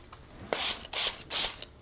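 Three fine misting bursts from a small spray bottle, each about a fifth of a second, loud and close with brief gaps between them.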